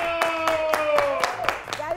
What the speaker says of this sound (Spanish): les pido un fuerte aplauso en el estudio y en su casa